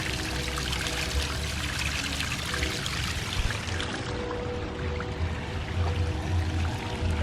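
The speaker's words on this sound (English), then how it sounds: "We got a nice little water fountain here." A small water fountain trickles and splashes steadily in a water lily garden in a rural West Texas oasis, a close, continuous wash of falling water with no talking.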